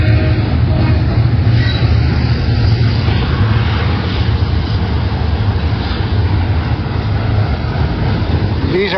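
Unmanned pusher locomotives rolling along a rail track in the Silverwood area give a loud, continuous, dense rumble and roar. The sound holds steady without pause, and the noise is heavy with low-end energy.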